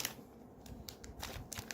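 A plastic biscuit bag being torn open, with crinkly rustling and sharp crackles in short bursts, close and fairly quiet.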